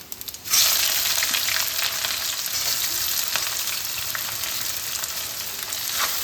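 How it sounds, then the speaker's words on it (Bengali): Chopped onions drop into hot oil already seasoned with whole spices, setting off a sudden loud, steady sizzle that keeps crackling close by. "এবার আমি এর মধ্যে কুচনো পেঁয়াজগুলো দিয়ে দিচ্ছি।"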